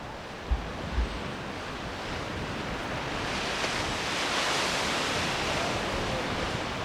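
Ocean surf rolls steadily along the Pacific coast of the Pacific Northwest, a broad continuous wash with wind across the microphone and a couple of low thumps near the start, no voices.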